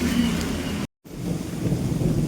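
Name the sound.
rain falling again at home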